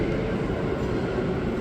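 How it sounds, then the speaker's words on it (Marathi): A train arriving at a station in Germany, with a steady, loud rumble of rolling carriages that continues unbroken through the short moment. "ट्रेन आलेली 11:41ला"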